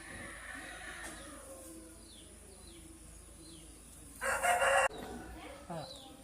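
Aseel rooster of about four kilograms on a Kerala poultry farm gives one short, loud crow near the end, with faint chirping birds and quiet background around it.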